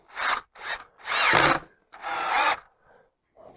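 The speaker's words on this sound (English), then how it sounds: "Put the screwdriver bit into the drill." A power drill drives a screw into a wooden door frame in short bursts, four or five whirring spurts with brief pauses between, close and clear with no talk.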